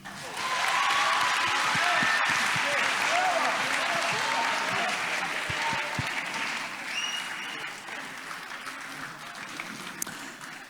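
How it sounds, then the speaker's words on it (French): An audience at a community stage event in Kourou applauds a youth performance group, a loud, dense burst of clapping with some voices mixed in that slowly thins out over several seconds. "Je crois qu'on peut encore les applaudir."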